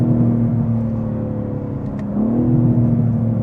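A tuned BMW M3 Touring accelerates hard on the Autobahn, its engine holding a steady loud drone, then the pitch steps up briefly after a shift and carries on, with no talking.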